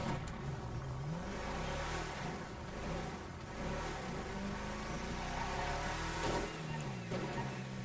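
A pickup truck engine in GTA V revs and drones steadily while driving, its pitch rising and falling with throttle, loud and continuous throughout.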